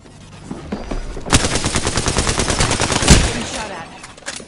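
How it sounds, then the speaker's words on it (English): Rapid automatic gunfire in the shooter game Apex Legends, a loud sustained burst of closely spaced shots with a sharp report near the start and another near the end, heard up close. "Getting shot at."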